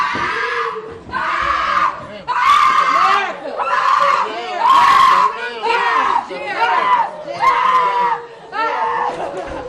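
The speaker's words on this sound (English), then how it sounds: "As the screams of their family members pierced the courtroom" Family members scream and wail in a courtroom right after a verdict, loud anguished voices rising in about seven long, repeated bursts across the clip.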